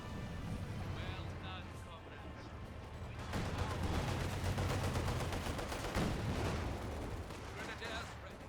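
Two bursts of machine-gun fire from a DShK heavy machine gun crewed by combat engineers in Company of Heroes 2, rattling amid dense battlefield gunfire and explosions, with a voice talking over the action.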